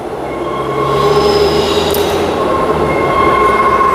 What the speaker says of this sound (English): This is the airport train coming in now.